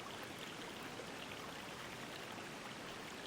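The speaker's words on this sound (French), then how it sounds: "juste les murmures du vent et au loin, celui d'un ruisseau" A distant forest stream murmurs as a soft, even wash of water, faint and continuous with no distinct events or voices.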